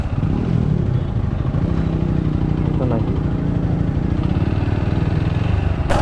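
A motorcycle engine idles on a beach near Cox's Bazar, Bangladesh, with a low, steady chugging throb, close and loud, while a person talks briefly over it.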